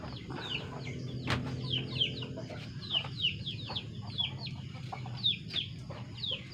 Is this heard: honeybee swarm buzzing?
no